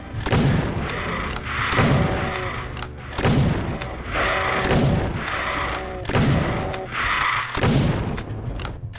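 Doom II (1994) shotgun gunfire and explosions on MAP28 The Spirit World, a steady rhythm of heavy booming blasts roughly every second and a half, loud and continuous with no talking.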